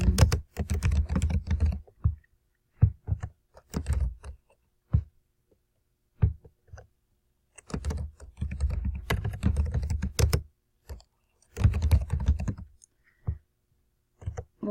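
Slide titles being typed on a computer keyboard: bursts of rapid, close key clicks separated by short pauses, crisp and isolated in a quiet room.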